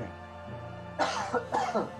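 A couple of short, harsh coughs sound close by against a low steady background hum.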